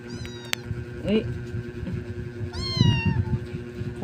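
A thin, skinny stray cat gives two meows, a short one early and a longer, clearer cry near the middle. Both sit under soft background noise and quiet household movement indoors.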